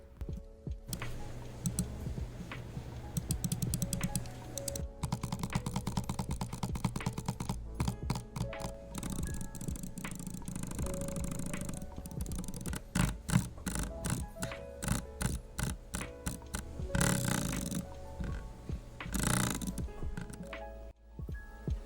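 Button clicks from a Glorious Model I gaming mouse, a long run of fast, crisp, close clicks in busy irregular bursts with short pauses, no voices.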